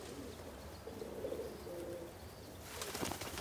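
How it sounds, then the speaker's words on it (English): A flock of pigeons coos softly in a low, murmuring chorus, with a burst of fluttering wings near the end, faint and fairly close, with no voices. "A flock of pigeons,"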